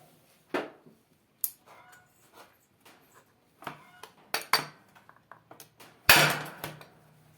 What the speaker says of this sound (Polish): No i teraz ściągniemy to koło magnesowe za pomocą oczywiście młotka.